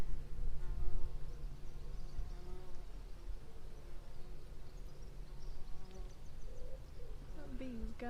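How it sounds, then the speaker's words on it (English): A bee buzzes around someone's head inside an old church during a nighttime investigation, a wavering drone that rises and falls as it moves close and away, steady throughout against faint background murmur. "That bee was going for my head."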